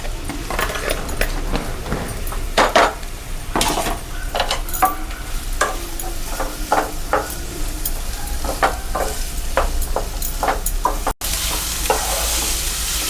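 Onions frying in oil in a pan sizzle steadily while a spatula stirs and scrapes in frequent close strokes with light metallic clinks, continuous and fairly loud for the whole stretch.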